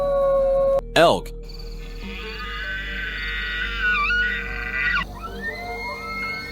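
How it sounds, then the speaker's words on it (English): An elk's bugling call: an abrupt rising squeal followed by sustained wavering, whistling tones with shifting pitch, moderately loud and without talk. "Elk."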